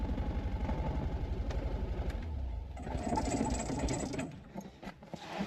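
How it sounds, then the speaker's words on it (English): An old car's four-cylinder engine idles nearby with a rapid, even chugging pulse that wavers and roughens briefly midway before settling again. "Look at that, she's idling herself now."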